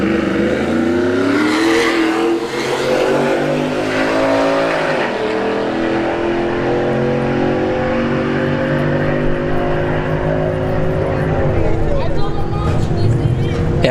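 Drag race launch of a Subaru WRX against a Ford F-150 work truck: loud engines rev and accelerate through rising gear pulls, holding a sustained roar, with a commentator talking over it.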